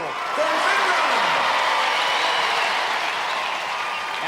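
An arena crowd at the National Indoor Arena bursts into sustained applause and cheering for an International Gladiators contestant, loud and continuous throughout.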